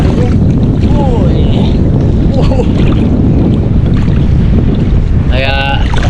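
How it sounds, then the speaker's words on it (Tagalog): Steady, loud wind buffeting the microphone over choppy open sea, with faint voices and a brief high whistling chirp near the end. "Mahangin eh."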